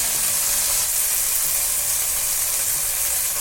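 Beef stew meat browns in a hot pan with a steady, close, even sizzle and fine crackle that holds without pause.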